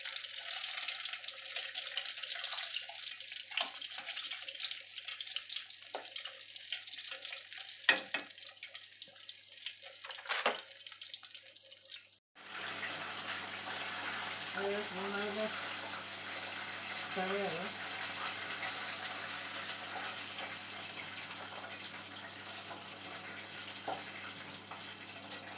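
Food fries in a pan with a continuous crackling sizzle, the steady hiss broken by occasional clinks and handling sounds at close range.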